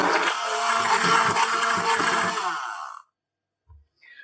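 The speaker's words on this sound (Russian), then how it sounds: "Я пробью блендером." A hand blender whirs loudly through a no-cream dessert mixture for about three seconds, its motor pitch wavering as it works, then cuts off abruptly, followed by faint small bumps.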